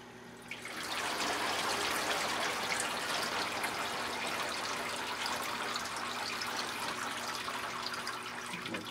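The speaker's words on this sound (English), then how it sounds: "Let that drain back in." Water from a tray of pepper transplants drains back into a hydroponic reservoir, a steady splashing trickle that runs loud and close, with no voices over it.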